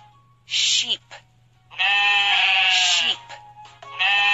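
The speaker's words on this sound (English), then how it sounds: "Sheep." A sheep bleats in a children's animal puzzle game: a brief wavering bleat, then a long, loud, quavering one, then the start of another, each clear and close with short pauses between.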